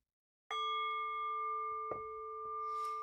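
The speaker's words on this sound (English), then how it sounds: "by the sound of the bell" A ritual bell struck once during a blessing, ringing with a clear sustained tone that lingers and decays slowly, with faint small knocks and a soft rustle partway through.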